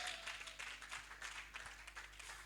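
A church congregation applauds to acclaim the Lord, a dense, continuous patter of many hands clapping at some distance, fairly faint.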